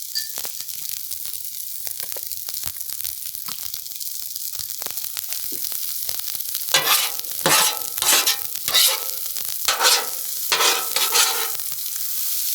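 Chicken fried rice frying on a Blackstone griddle, a continuous close sizzle with scraping spatula strokes that grow louder and more rhythmic partway through, alone without talk.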